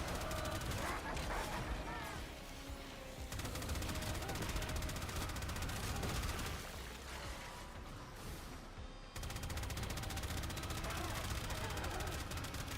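Gunfire in the sci-fi shooter Warframe, dense and continuous rattling shots layered with mechanical game effects throughout, briefly cutting out near the end before resuming at full loudness.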